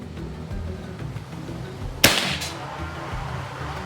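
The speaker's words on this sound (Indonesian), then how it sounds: "Kita lanjut tembakan kelima." A single sharp PCP air rifle shot cracks out mid-clip, followed by a short ringing tail over a low background hum.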